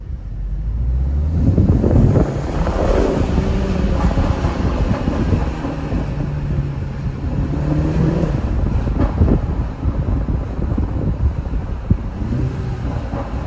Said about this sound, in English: this is what the car sounded like before I put the exhaust in